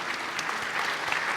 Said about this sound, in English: Give a round of applause for the profitables